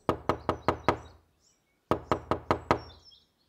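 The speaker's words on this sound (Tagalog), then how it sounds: "nagising na lang ako nang may kumakatok sa kwarto ko" Someone knocks on a bedroom door early in the morning: two clear bursts of five sharp, evenly spaced raps separated by a short silence, close and distinct.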